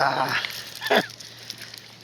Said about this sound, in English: This dog got me all over the place.